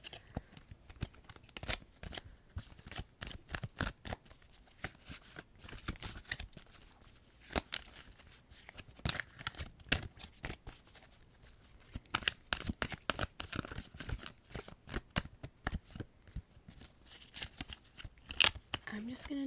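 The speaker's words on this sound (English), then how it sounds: "I'm just gonna shuffle them just a little bit." Tarot cards being shuffled in a quiet ASMR tarot reading, giving dense crisp riffling and flicking bursts at close range with soft handling pauses, while a faint soft voice talks now and then.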